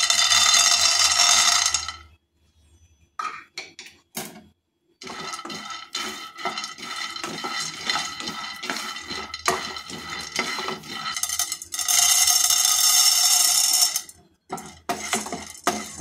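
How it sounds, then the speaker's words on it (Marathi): Dry peanuts rattle and scrape around a pan while being roasted for curry-leaf chutney, with dense clattering and stirring scrapes that swell loud, briefly drop out, then return steadily. "आपण आता शेंगदाणे भाजून घेऊया।"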